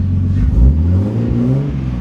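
Toyota Supra engine revving at idle in a garage, a loud low rumbling note that swells briefly and settles, heard close with no talking.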